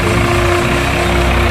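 Tractor engine running while plowing a wet paddy field, a loud steady diesel drone with a low chugging rumble, continuous and close throughout without talk.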